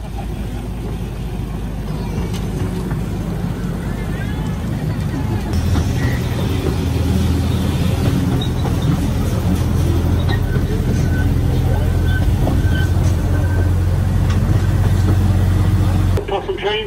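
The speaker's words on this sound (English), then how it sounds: "Possum train taking the zip liners up the hill." A small possum-themed tourist train hauls zip liners uphill in the Coromandel, New Zealand, its engine droning steadily and close throughout, with a low rumble that grows heavier partway through and people talking over it.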